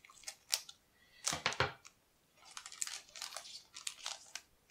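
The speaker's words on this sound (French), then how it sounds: "Non, on va mieux que je coupe jusqu'au bout." Scissors snip through the foil wrapper of a Japanese Star Wars trading card booster pack, a series of close, crisp crunchy cuts with crinkling in irregular bursts and short pauses.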